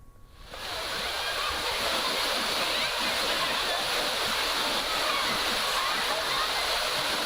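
Thirparappu waterfall roars as it pours down in the rain, with crowds of tourists around it: a dense, steady rush of falling water that swells in within the first second and holds loud and unbroken.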